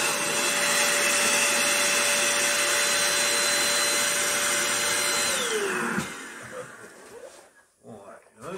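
An electric pump inflates purple balloons with a steady loud whirring drone that shifts down in pitch and cuts off near the end, followed by quieter rustling as a person talks.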